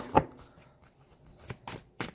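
Tarot cards are shuffled in a few short riffling bursts, one sharp snap near the start and then softer flutters, close and quiet with no talk.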